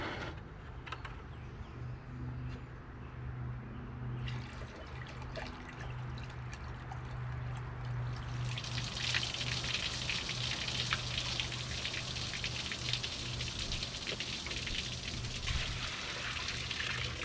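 Pond water and sediment pour from a pail into an aquarium. After a quiet stretch, a steady, close gush and trickle of water starts about halfway through and keeps going to the end.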